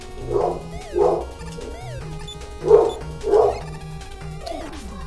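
A dog barks four times in two pairs, at moderate distance, over bleepy chiptune music from a Mega Man 6 game.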